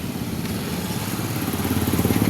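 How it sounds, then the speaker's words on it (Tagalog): A motorcycle engine runs close by in a steady, loud idle with a regular pulsing chug that firms up slightly toward the end, with no talk over it. "Yung motor ni Jerry ko."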